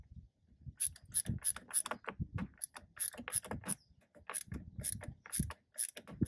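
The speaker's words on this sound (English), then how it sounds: "And then tighten this clamp here." Quick ratcheting clicks come in uneven bursts as a clamp is tightened on a plastic intake tube during an engine air-intake mod. The clicks are close and fairly quiet, with brief low handling noises between them.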